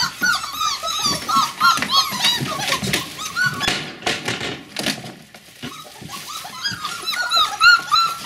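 Border Collie puppies whimper and yip in a dense, overlapping chorus of high, wavering cries, close and continuous throughout, with a brief lull midway.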